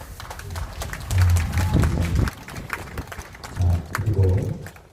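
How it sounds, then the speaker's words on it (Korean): An audience applauds at a Danyang saxophone ensemble's annual concert, a dense wash of clapping that swells in two loud waves and settles between them, with a low hum underneath. "오늘 축하의 박수를 한번 크게 보내주시길 바랍니다"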